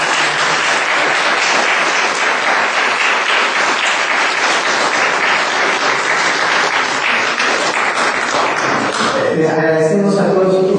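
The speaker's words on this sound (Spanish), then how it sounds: "Le brindamos un fuerte aplauso." After a conference on the monolithic temple of Malinalco, the audience gives loud, sustained applause that fills the room, then fades near the end as voices begin.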